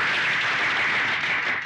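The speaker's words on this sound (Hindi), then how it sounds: "तालियां" A club audience breaks into steady, dense applause, many hands clapping together in a continuous even wash with no gaps.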